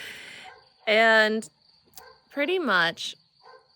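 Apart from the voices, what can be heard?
dogs barking, rescue dogs on a farm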